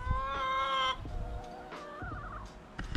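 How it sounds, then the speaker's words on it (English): Chickens loose in a pumpkin patch, with a loud nearby rooster-like call followed by scattered clucks and softer bird calls outdoors. "the chickens are out being cheeky in the pumpkin patch"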